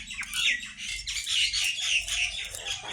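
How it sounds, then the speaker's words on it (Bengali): Outdoor birds calling near a home garden, a run of bright squawks and chirps repeating through the moment at moderate distance, fairly clear over a soft low background rumble. "পাখি দেখতেছে।"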